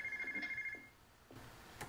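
A telephone rings in the horse game Legacy of Rosemond Hill, a quiet, steady electronic trill that stops partway through, followed by faint soft clicks.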